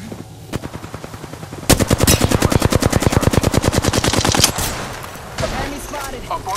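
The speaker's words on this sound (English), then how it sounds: "Shots fired. They're hitting me." Rapid automatic gunfire from a fight in Apex Legends rattles out as a long, loud, evenly spaced burst, preceded and followed by shorter shots and game effects.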